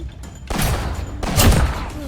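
Two loud bursts of rapid gunfire in the Roblox-style game Blockspin, each starting abruptly and rattling on for most of a second, close and punchy with voices faintly underneath.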